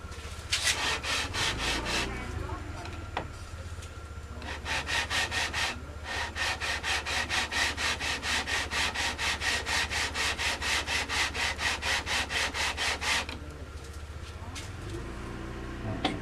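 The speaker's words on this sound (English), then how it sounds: "So I've been sanding for 10 minutes or so." Rapid back-and-forth sanding strokes rasp across a wooden electric guitar fretboard in steady rhythmic bursts, close up, with brief pauses between runs.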